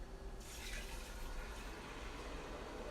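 Water is poured into a hot pan while cooking a simple Thanksgiving dish and sets off a quick sizzling hiss that swells and then settles into a steady bubbling wash with a low rumble underneath.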